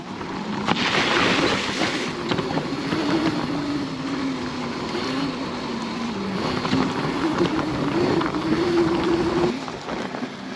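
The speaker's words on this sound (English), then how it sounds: "Water splash." OSET dirt bikes ride through a water splash on a trail, with a steady motor whine and rushing, spraying water noise holding loud and close throughout.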